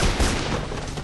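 Gunshots in Mirror's Edge on PC: a dense, muffled burst of gunfire and booming impacts, fairly quiet and brief, with no talk over it.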